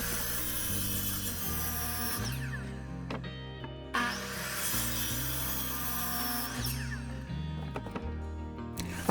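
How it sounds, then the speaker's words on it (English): A power saw cuts through a pressure-treated 2x6 wood board in two long passes, with a loud steady whine and bite that stops briefly between cuts. "cut 2 boards for the width and 1 board for the length of the table"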